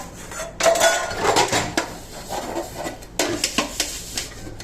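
Utensils are scrubbed by hand at a quick pace in short, irregular bursts of rasping and metallic clatter, close and moderately loud, with brief gaps between strokes.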